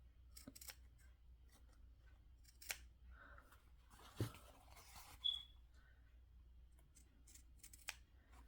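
Scissors snip paper pieces for a handmade junk journal cover, a few quiet, sparse cuts with small rustles and thuds at close range.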